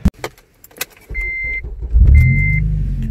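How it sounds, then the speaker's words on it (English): A 2006 Honda Civic Si with a four-cylinder engine being started, with clicks and key jingles, two chimes, then the starter catches and the engine settles into a loud, steady idle close by. "Let's go ahead and start the vehicle up."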